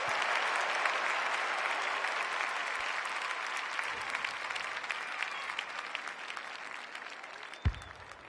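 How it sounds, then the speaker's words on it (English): Dense crowd roar and applause at an Australian football match as Adelaide score a goal, a broad sustained wash of cheering and clapping throughout with a sharp thud near the end. "The crowd noise tells you all you need to know."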